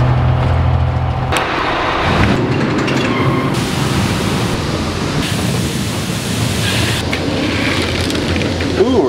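Combine harvester engine running in a corn harvest, a loud, steady, broadband rumble and roar close by that continues for several seconds.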